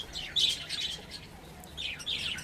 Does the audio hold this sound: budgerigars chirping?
yes